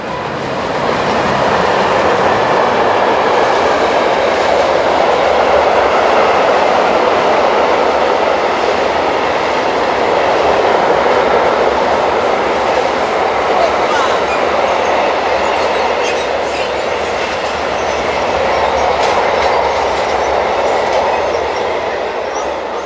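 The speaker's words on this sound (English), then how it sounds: "freight trains headed by German Class 185 electrics fitted with Swiss cab signalling equipment" Freight train hauled by a German Class 185 electric locomotive fitted with Swiss cab signalling, heading south: a loud, sustained rolling roar of wagons passing close by with rhythmic wheel clatter, swelling and easing over about twenty seconds.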